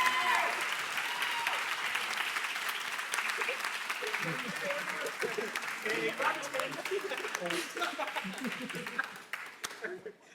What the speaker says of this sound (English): one more round of applause for the 2025 cohort